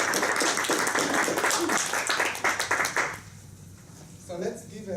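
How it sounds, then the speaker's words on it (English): An audience at a Toastmasters meeting claps loudly and steadily for about three seconds after a speech, then the applause fades into quiet room sound with a voice speaking faintly. "let's give Toastmaster Nicole another applause for giving us that wonderful speech on the essential oils"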